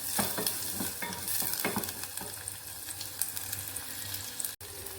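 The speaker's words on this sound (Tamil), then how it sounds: "நல்லா வெங்காயம் வதங்கட்டும்." Small onions sautéing in a pan give off a steady, close crackling sizzle with frequent stirring scrapes, running continuously without any talk.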